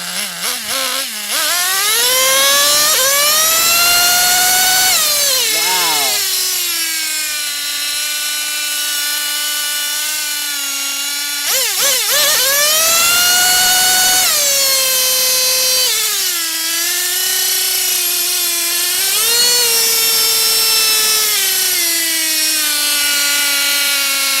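A small high-pitched nitro RC car engine, a Traxxas T-Maxx, whines and revs up and down repeatedly, loud and close, its pitch rising and falling with the throttle.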